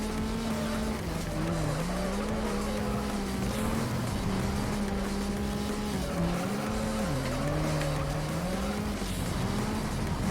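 A race car in the video game Juiced drones along at high revs, its engine pitch rising and falling through gear changes while tires squeal in drawn-out skids, steady and loud with no talk.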